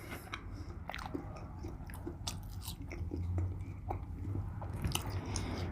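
Close chewing of McDonald's fries, with soft wet crunches and bites repeating over a low background hum.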